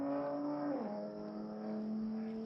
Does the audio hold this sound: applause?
no